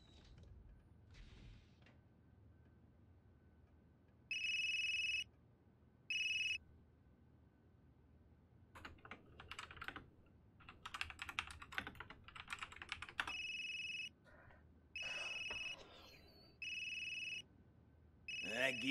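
An electronic phone ringtone in the game Unheard chirps in repeated short bursts, mixed with clattering, creaking handling noises over a low background.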